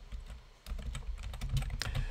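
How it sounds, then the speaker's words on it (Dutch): Typing on a computer keyboard: a fast, irregular patter of close key clicks that grows busier and louder partway through, with no talking. "Ik ga het even typen."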